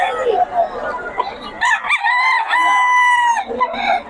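Roosters at a chicken market in Bocaue crow loudly and close, one drawn-out cock-a-doodle-doo dominating the middle, with clucks and other crowing around it while men haggle in the background.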